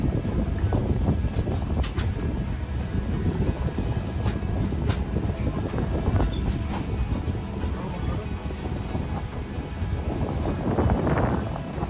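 A Konkan Railway train runs along under rainy skies, a continuous low rumble and rattle of the carriages with wind buffeting across the microphone, steady and moderately loud.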